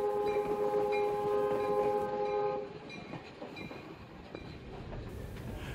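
A heritage train ride, with a steady horn blast at first, followed by the continuous rumble and rattle of the rail cars from onboard, fairly quiet and without speech.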